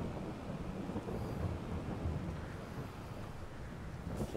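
Steady rain and rolling thunder in the farming game Farming Simulator 22, Carpathian Countryside map, a dense broadband wash at constant loudness with low rumbles throughout and no speech.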